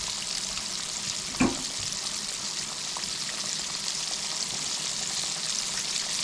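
Fish, snapper, frying in a pan, giving a continuous bright crackling sizzle with one louder pop or splash early on, fairly close and steady.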